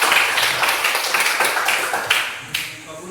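A school classroom of students applauding, with a burst of quick scattered hand claps that starts loud and gradually thins out over about three seconds, with a few sharper claps near the end.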